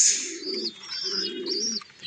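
Pigeons in a home loft at feeding time coo nearby, soft repeated low throaty calls under a higher chirping layer, with no speech.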